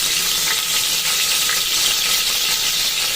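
Cumin, mustard seeds and green chillies sizzle loudly in hot oil for a fish curry, a dense, steady hiss with faint crackles and no voices.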